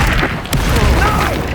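An Incendio fire spell cast in the video game Hogwarts Legacy, a loud dense burst of whooshing, booming combat effects that lasts through the whole short moment.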